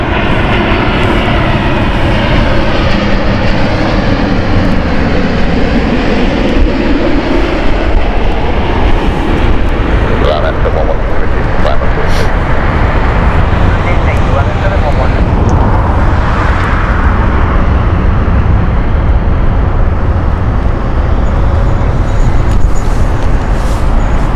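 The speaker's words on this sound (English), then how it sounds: "Next is we have United flight." A United Airlines jet at Heathrow Airport roars loudly and steadily throughout, a broad continuous engine rumble with shifting tone as it passes, and a voice talks faintly underneath.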